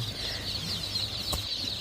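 Farm-raised hens cluck softly and steadily at close range, with a brief sharp knock near the end and no voices.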